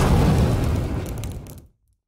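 An artillery tower in the Kingdom Rush video game fires an explosive shell, producing one loud, heavy boom with a rumbling tail that dies away to silence after about a second and a half.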